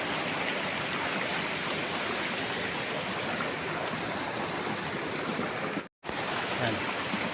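River flowing along the edge of a farm lot in Liliw, Laguna, a steady, loud rushing of water close by that continues without a break except for one brief dropout near the end.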